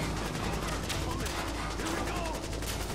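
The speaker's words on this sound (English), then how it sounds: "Shooting through the wall" Dense video-game gunfire in The Division as bullets tear through a wall, a fast, loud, unbroken barrage of rapid shots that runs the whole time.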